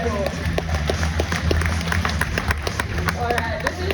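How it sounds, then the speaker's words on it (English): An audience at an Australian zoo wildlife show claps in a steady burst of applause, with crowd voices and chatter mixed in throughout. "How about we give her a round of applause?"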